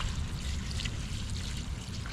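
Water mixed with homemade fertilizer pours steadily onto freshly transplanted pepper plants in a garden, a continuous close splashing trickle.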